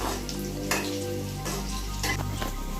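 Jute leaf pakoras frying in hot oil, a close, even sizzle with brief louder bursts of crackle and no talking.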